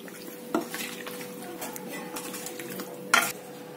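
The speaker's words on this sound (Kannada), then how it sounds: "ಇದನ್ನ ಚೆನ್ನಾಗಿ ಕಲಿಸ್ಕೊಳ್ಳಿ" Chicken kebab ingredients being mixed in a bowl in a home kitchen, with soft stirring and scraping, a few brief clinks against the bowl and one sharper clatter near the end.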